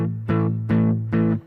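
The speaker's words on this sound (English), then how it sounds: "it's going through the line out of my Boss Katana 100" Electric guitar played through the line out of a Boss Katana 100 amp, three distorted chords struck in slow succession, each ringing with a thick, effects-laden tone before the next, loud and close with no voices.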